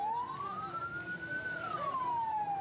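Ambulance siren on a road blocked by protesting truck drivers, a single long wailing tone rising and falling, moderately distant under steady traffic rumble, no talking.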